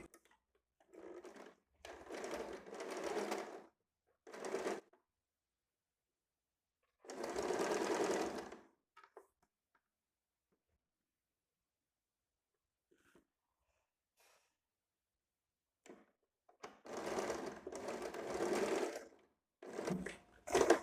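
A sewing machine stitches the neckline of a high-neck blouse in several separate loud bursts, with quiet pauses between runs.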